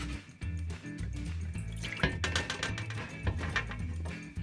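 Chicken stock scrapings and bones are tipped into an Instant Pot, giving soft wet splashes and dribbles with a few sharper clunks, close and fairly quiet.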